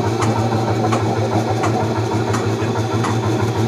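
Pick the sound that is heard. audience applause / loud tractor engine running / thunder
loud tractor engine running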